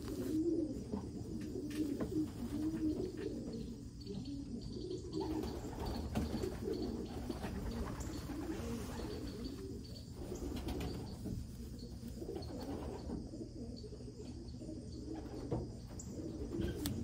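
Racing pigeons coo softly and repeatedly in a loft, the low murmuring calls layered under a steady background hum with occasional faint chirps and wing rustles.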